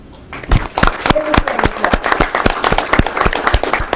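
Audience applause at a business breakfast event, distinct sharp claps from a modest crowd building quickly after a brief quiet start and continuing irregularly, with a faint voice mixed in.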